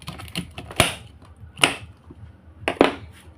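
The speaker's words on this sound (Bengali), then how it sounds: "এখানে আমি ফুলগুলো কিন্তু ভালোভাবে একটু দেখো আদা ঘষা দিয়ে ঘষে নিচ্ছি" Cauliflower florets are rubbed against a ginger grater in a home kitchen, making a few sharp, close scraping strokes with short gaps between them.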